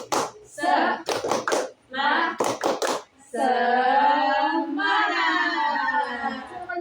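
A small counseling group claps a short rhythmic spirit clap in sharp bursts, then joins voices in a long, loud unison chant.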